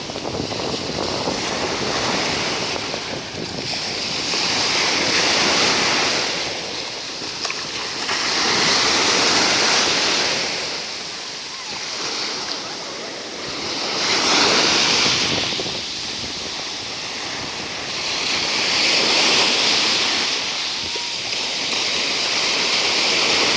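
Sea waves wash onto the beach at Byala, Bulgaria in slow, regular surges of broad hissing surf, each swell rising and falling every few seconds, with wind buffeting the microphone and no voices.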